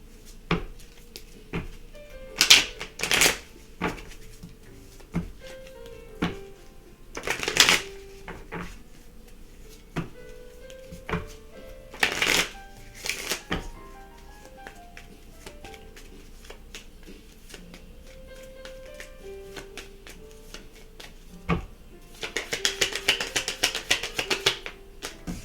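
Tarot cards being shuffled and handled in a quiet room, giving sharp riffling bursts at irregular intervals, then a denser flurry of card noise near the end, with no one talking.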